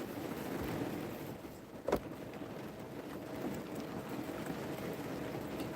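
Steady rain hisses without a break, with one brief soft thump partway through; no voices.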